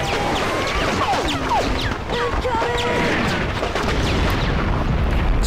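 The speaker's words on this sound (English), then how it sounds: "Jeez, big explosion." A big explosion in the video game Conker's Bad Fur Day booms and crashes through a dense, continuous wash of battle noise, loud and sustained throughout with no speech.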